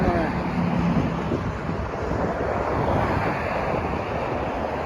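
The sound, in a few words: wind blowing outdoors in Florida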